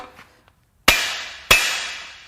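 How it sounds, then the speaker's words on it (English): Two sharp metallic hammer blows ring out on the main bearing cap of a blown Mercury Marauder 4.6L V8 engine during teardown, a second apart, each decaying briefly after faint handling noises. "first thing I'm going to try, smacking that main cap with this hammer"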